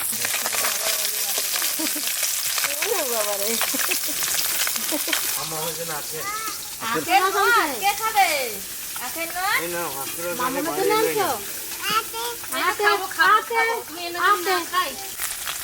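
Broken rice sizzles and crackles in a hot pan with tomato, a continuous frying hiss with people talking over it.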